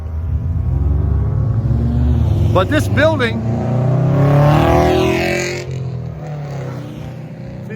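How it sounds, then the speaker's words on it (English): Nissan cars pass on a mountain road beside a hiking trail, their engines swelling as they go by and then fading, while a person speaks over them at close range. "that's the cars I told you about that like to follow each other. Those are some Nissans"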